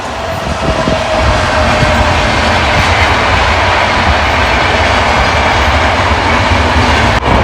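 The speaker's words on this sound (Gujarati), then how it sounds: "અને અહીં ટ્રેનનો પાટો હમણાં ટ્રેન" A train rolls past on the rail line running beside a village cattle shed, a loud, steady rumble and clatter of wagons filling the whole stretch, close by and without pause.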